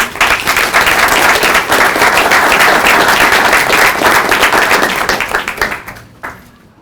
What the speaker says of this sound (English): big round of applause for Queen Will, please.